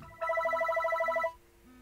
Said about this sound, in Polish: O, i właśnie dzwoni telefon.